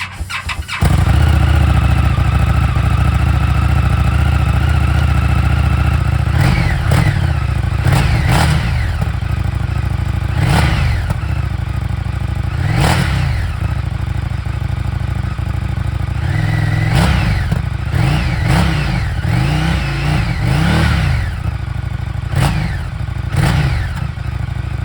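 An Indian FTR 1200 motorcycle with its stock exhaust cold-starts after a brief crank, then settles into a steady, loud idle close by, punctuated by several sharp blips of the throttle.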